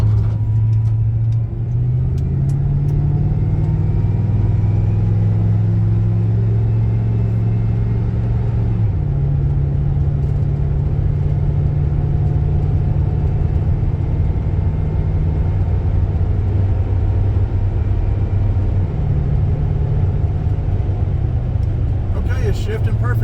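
Car engine driving along US 129 toward Athens, Georgia, a loud, steady low rumble with pitch rising and dropping at a few gear shifts, continuous throughout with a brief rise in noise near the end.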